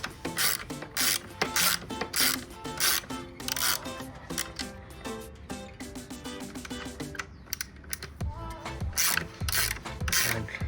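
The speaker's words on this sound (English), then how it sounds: "I'm using a ratchet spanner" A ratchet spanner clicks in quick bursts, turning bolts while a pannier rack is fitted to a Royal Enfield Himalayan 450 motorcycle. The close, sharp ratcheting comes in repeated runs with brief pauses between them.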